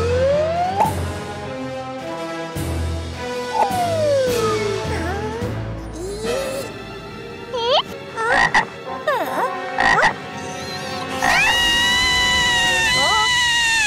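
Cartoon frog croaking in an animated story, a series of loud, rough croaks and squeaky gliding calls in close succession, mixed with voices and music.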